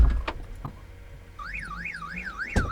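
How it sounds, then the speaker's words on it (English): A vehicle tracker alarm wails in a rapid rising-and-falling siren pattern, loud and close, after a few sharp knocks. "There you go, there goes my tracker alarm."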